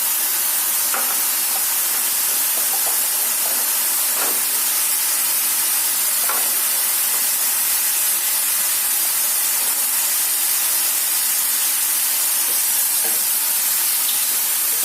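Lentils sizzle in a pan of moringa leaves with a steady, loud frying hiss that holds the whole time, broken now and then by faint stirring clicks.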